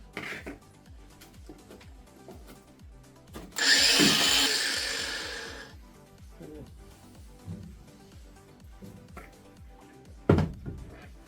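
A power tool cuts off the ends of fuel pipes on an MGB GT in a workshop, a loud grinding burst of about two seconds that tails off, set among quieter clattering handling noises.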